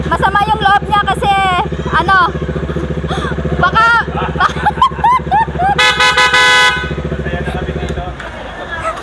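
A horn newly fitted to a Bajaj Dominar 400 motorcycle honks in repeated short, loud toots and a longer blast, over the bike's idling engine nearby.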